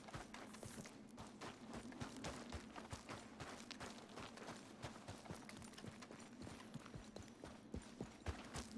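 Hoof beats of a horse in Red Dead Redemption 2 keep up an even, rapid clip-clop throughout, moderately close and steady in level, with no voices over them.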